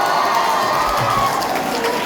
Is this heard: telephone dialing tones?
no